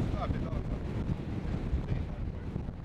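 Strong wind blowing on the Jebel Hafeet mountain road, heard as a steady roaring rumble buffeting the microphone throughout.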